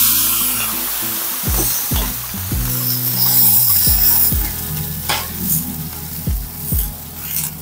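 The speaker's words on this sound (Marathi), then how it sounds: "पाण्याचा हपका मारून तव्याचं टेम्परेचर मेंटेन करूया" Water is splashed onto a hot oiled iron griddle (tava) before making beetroot rice-flour ghavan, setting off a loud, crackling sizzle that fades into repeated spitting bursts and faint scraping of utensils, with no voices.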